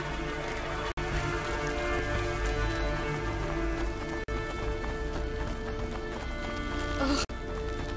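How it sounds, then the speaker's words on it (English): A horse gallops in A Plague Tale: Innocence, with steady hoofbeats running through the whole stretch amid rain-like noise and sustained musical tones. A few brief dropouts break the otherwise constant sound. "Oh, the horse!"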